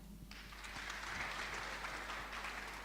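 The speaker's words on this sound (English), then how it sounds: "Thank you so much for the round of applause." Many people at a community gathering break into applause that starts after a brief pause and continues as a dense, even stream of clapping, fairly loud over a constant low hum.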